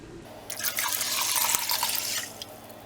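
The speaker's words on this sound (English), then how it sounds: "I'm going to add 10 cups of water." Water is poured into a crock pot of rinsed dried beans, a steady splashing, gurgling pour lasting about two seconds, close and fairly loud with no talk.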